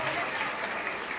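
Dense, steady audience applause fills a school annual day prize distribution ceremony, sustained and evenly loud from start to finish.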